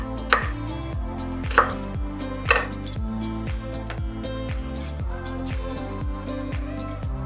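A knife chops calamari on a cutting board in a steady, fast rhythm of crisp close knocks, with a few harder strikes standing out and no talk.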